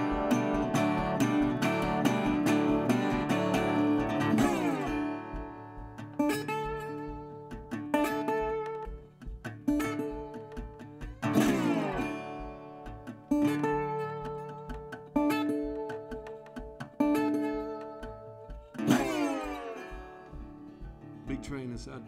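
Acoustic blues guitar, played live at McCabe's, imitates a train's air brake letting go, with strummed and plucked phrases repeating in surges and bursts of strings over a steady pulsing bass, heard up close without talk.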